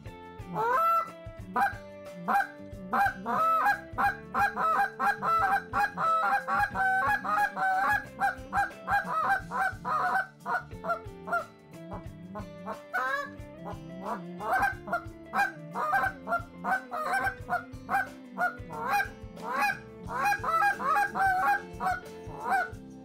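A short reed goose call is blown in rapid, rhythmic runs of loud honks and clucks imitating Canada geese. The calling continues steadily, close and alone, with no talking.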